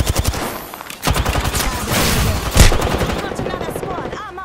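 Fast, dense gunfire in a battle royale video game firefight, with automatic bursts and a sharp louder shot, under layered game voice callouts.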